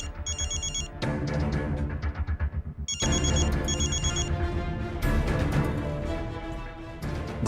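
A phone ringtone for a video call rings loudly and repeatedly in bursts of electronic tones, with brief gaps between rings and no voices.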